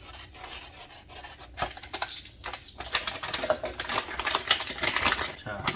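Anti-static plastic packaging around a PC graphics card is torn open, a burst of crinkling and ripping that builds and grows louder and busier toward the end.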